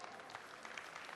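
Brief, faint burst of audience applause fills a press conference room at the Audi Sport event in Geneva, 2013, a steady wash of clapping with no voices above it.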